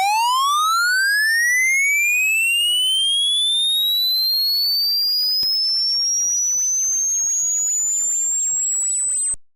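Steady sine test tone sweeping upward through a Fractal FM9 amp modeler, with faint mirrored aliasing harmonics folding back as the pitch climbs, loud and alone before cutting off at the end.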